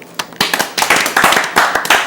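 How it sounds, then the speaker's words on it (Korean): A few people clap loudly and close by during a livestream of the mobile strategy game Infinity Kingdom, sharp irregular claps building into a brisk run. "박수 박수 박수"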